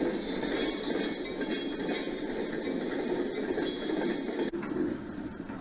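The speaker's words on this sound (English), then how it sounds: "A pair of FP7s handle a loaded coal train through Selkirk." Two model FP7 diesel locomotives hauling a loaded coal train through Selkirk on a layout, a steady close rumble of motors and wheels with faint clicking mechanism noise throughout.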